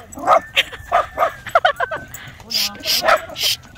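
A dog yips and barks in short bursts close by, mixed with whimpering, while a person talks over it.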